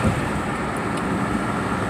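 Road and wind noise inside a moving car with the windows open, a steady loud rumble and hiss of traffic throughout, with no talking.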